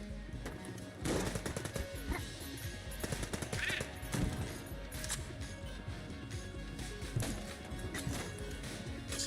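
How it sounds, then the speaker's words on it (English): Video game gunfire, rapid bursts of shots repeating across the whole stretch with occasional louder hits, steady and fairly close, with a background game soundscape and no talk over it. "The guns. They're shooting at me."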